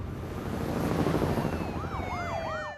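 Police car sirens pass by in The Walking Dead video game, a loud wailing sweep rising and falling over a rumbling background, sustained and close.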